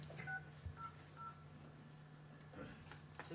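Faint telephone keypad tones dial a conference line on an ordinary phone, several short beeps spaced apart over a low steady hum, with no speech.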